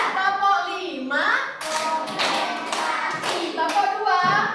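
A class of children clap five quick beats in a row for a teacher's numbered clapping game, crisp claps close by with her voice and some child chatter around them.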